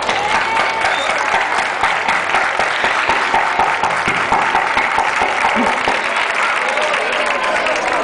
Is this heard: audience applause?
yes